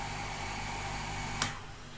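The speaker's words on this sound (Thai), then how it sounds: "ขอโทษนะคะมีเสียงปั๊มดังเนาะ" Pump running in a home kitchen while pumpkin in coconut milk is being cooked, a steady continuous droning hum throughout with a brief click near the end.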